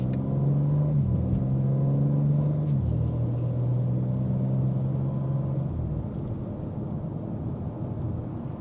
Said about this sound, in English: It's a bit noisy in the cabin, but the exhaust note does filter in enough